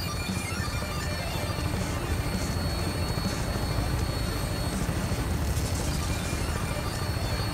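A Vertibird aircraft in the video game Fallout 4 holds a steady, loud rotor and engine roar at takeoff, a continuous dense whir with a faint rhythmic chop that stays constant throughout.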